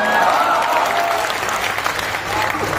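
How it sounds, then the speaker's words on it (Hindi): A crowd at a religious festival concert claps steadily in a dense wash of applause, fairly loud and sustained throughout with no single standout claps. "ताली कमजोर रह गई"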